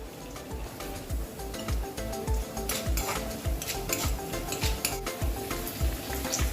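Spices and coriander seeds dry-roasting in a pan for Kerala-style sambar, a busy continuous crackle and rattle of seeds with frequent stirring strokes against the pan, close and steady throughout.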